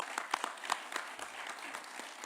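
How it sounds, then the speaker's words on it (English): Applause at a New Jersey safety summit plenary session for the team leaders, a modest scattering of claps with a few sharper individual hits standing out, moderately quiet and steady. "I think you all should get a big round of applause."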